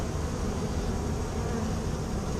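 A dense, steady drone of many honeybees from a colony in an old oak tree fills the air, close and continuous with no pauses.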